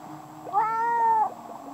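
A single drawn-out cat meow from the My Town video game, clear and fairly loud, lasting under a second over a faint background hum.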